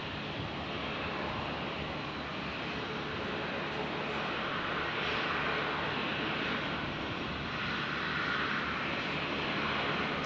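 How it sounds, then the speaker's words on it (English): A Link Airways plane arriving from Tamworth touches down at Brisbane airport, its engine roar a steady, broad wash that holds at moderate loudness from start to finish without pause. "So Link Airways just touched down here from Tamworth."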